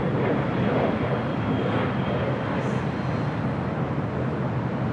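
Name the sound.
Qantas A380 arriving at LAX from Sydney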